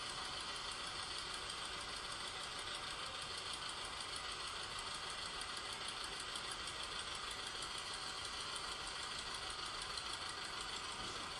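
A tractor engine runs steadily at a distance, a faint, continuous chugging drone with a rapid knocking pulse and no pauses.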